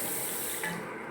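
A steady stream of water pours and splashes close by, a continuous hiss as the supply flows out, with no talking.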